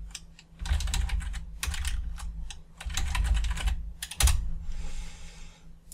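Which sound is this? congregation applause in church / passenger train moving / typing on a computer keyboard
typing on a computer keyboard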